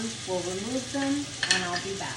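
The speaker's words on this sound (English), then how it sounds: "Hear that sizzle?" Beef pieces sizzle and hiss as they brown in a pot for a vegetable beef barley soup, with a loud dishwasher running nearby, and a person talks over the frying throughout.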